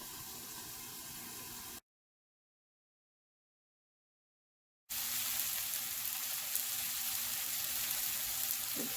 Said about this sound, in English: Let it cook for a few minutes so that the onion becomes soft and tomatoes will become soft.